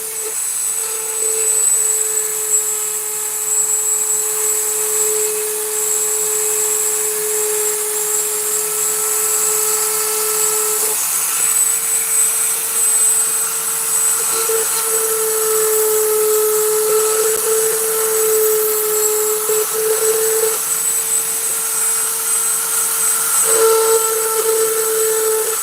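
Rotary tool spinning a burr into maple wood while carving eyeballs: a steady high-pitched whine held for the whole stretch, with slight shifts in pitch as the burr bites and eases, close and loud with no talk.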